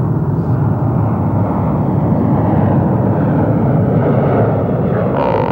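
An aircraft of an air shuttle service drones continuously and loudly, a broad, steady engine roar with no break, a faint higher whine emerging near the end.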